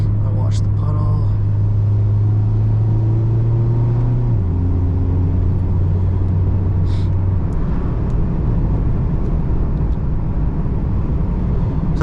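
A 2016 Mazda MX-5 Miata cruises along a back road, engine humming low and steady with a pitch shift partway as it changes speed, accompanied by constant road and wind rumble and someone talking over it.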